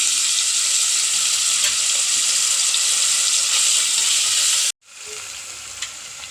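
Ginger and garlic fry in hot oil in a pressure cooker, a loud continuous sizzle that briefly drops out, then resumes with a softer crackle close by.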